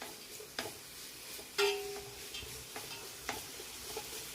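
Mutton biryani masala being stirred and sautéed in oil in a pan, with a steady low sizzle, a few scraping strokes of a spoon and one brighter clink partway through, close and moderately quiet.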